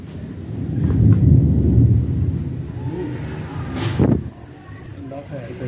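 Thunder rolls low and heavy during a hailstorm, a loud sustained rumble that swells early, then a sharper crack-like burst near the end before fading, with a voice talking over it.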